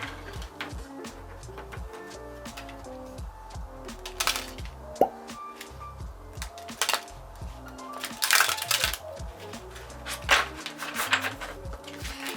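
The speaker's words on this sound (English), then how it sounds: "I like shuffling cards that way because that kind of incorporates right side up and reversed cards as well." A Neo Rider antique tarot deck is shuffled by hand, producing irregular soft card slaps and riffles with several louder, sharper bursts of cards striking together, close and without speech.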